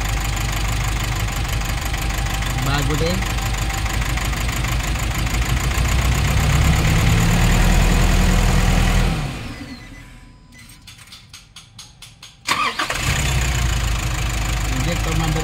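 A Nissan NV350 van engine with strong vibration idles loudly and roughly during an injector cut-out test, then drops away to a quieter rumble and catches again abruptly, as someone speaks over it.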